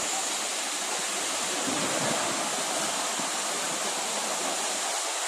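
A waterfall at Pullavelli pours steadily, a dense broadband rush of falling water that stays loud and unbroken throughout, with no voices over it.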